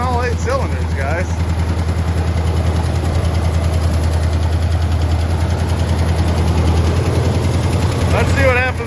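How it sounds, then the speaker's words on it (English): A 1974 International pickup's V8 idles steadily with a loud, ticking top end, a deep even rumble close by. Someone talks briefly over it at the start and end. "A little loud over here in the top end. Let that oil get up there. Maybe it'll quiet down a little bit."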